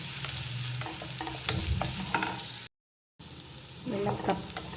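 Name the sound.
shallots sautéing in a pan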